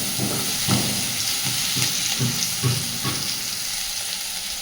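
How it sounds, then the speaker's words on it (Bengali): Onion frying lightly in oil with garlic for a pumpkin ghonto, a steady close sizzle broken by repeated soft scraping stirs about every half second. "কিন্তু পেঁয়াজটা লালচে করে ভাজবো না, জাস্ট হালকা একটু রং ধরা পর্যন্ত ভেজে নেব।"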